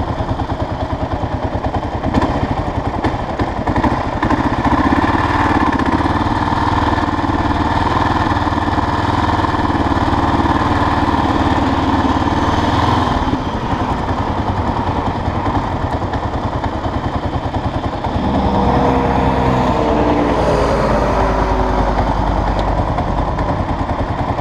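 A Kawasaki KLR650 motorcycle with 8,200 miles, ridden on a cold, dark road, gives a steady, loud single-cylinder drone with wind rush the whole way. The pitch dips and settles as the rider shifts near the end.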